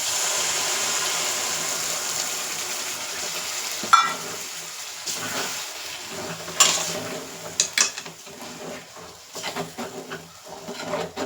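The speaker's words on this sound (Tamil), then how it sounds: "நல்லெண்ணெயிலே நல்லா வேகணும்." Garlic sizzles and fries steadily in sesame oil in a pan, a continuous close hiss broken by a few sharp clinks and stirring scrapes of a utensil against the pan.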